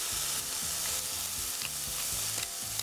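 Tofu frying in a hot pan with soy sauce, a steady loud sizzle with repeated scraping strokes as it is stirred, close up with no voices.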